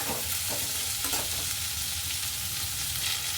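A spatula stirs a capsicum tempering in a frying pan over a medium flame, giving a soft, continuous sizzle. A few scraping strokes come early, then the frying settles into a quieter, even hiss.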